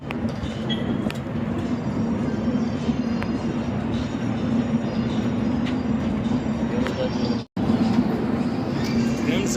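An amusement park toy train rumbles steadily with a low hum and rattling wheels, voices chattering faintly underneath, the noise briefly cutting out near the end.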